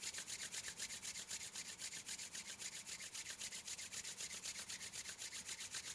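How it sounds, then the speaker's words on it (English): Two hands rub briskly together to build warmth, a close, steady rhythmic swishing of skin on skin repeated many times without pause. "rub the hands warm"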